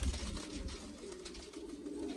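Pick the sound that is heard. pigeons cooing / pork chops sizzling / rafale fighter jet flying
pigeons cooing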